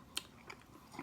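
A bite into barbecued baby back ribs with rub and sauce, cooked on a Weber kettle grill: one sharp, close crunch of teeth tearing meat, followed by a few soft chewing sounds. No talking.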